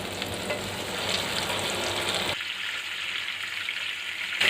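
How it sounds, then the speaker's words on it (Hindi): Soya chunk kebabs deep fry in hot oil in a kadai, giving a steady, close sizzle and crackle that drops off sharply partway through, then falls back to a quieter hiss. "तो अब सारे कबाबों को इसमें एक एक करके डीप फ्राई कर लेंगे"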